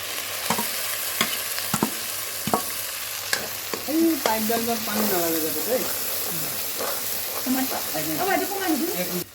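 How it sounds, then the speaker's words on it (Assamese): Ground gravy for paneer butter masala going into a hot pan, a bright close sizzle with sharp clicks of a spoon against the vessel, while someone talks over it for most of the stretch. "এই গ্ৰেভিখিনি দি দিলোঁ।"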